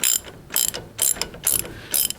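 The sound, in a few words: ratchet wrench bolting down Lotus Elise wishbone ball joint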